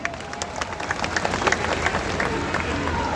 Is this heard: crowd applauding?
yes